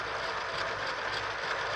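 Cranks and big flywheels of a Lego Titanic model's motorized engines turn with a soft continuous whirring and light plastic ticking, close and steady without voices.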